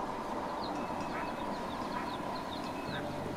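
Game ducks in Ducklings.io quack in short repeated calls over a steady bed of game music and ambience, with no talk.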